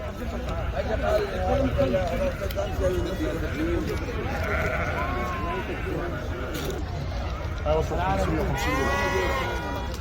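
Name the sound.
sheep bleating at livestock market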